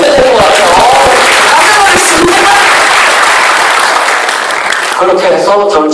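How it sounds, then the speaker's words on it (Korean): Dense audience applause fills a lecture hall during a talk on personal change, a loud steady wash of many hands clapping with crowd noise and voices mixed in throughout. "여러분 박수 한번 주셔야 될 것 같아요."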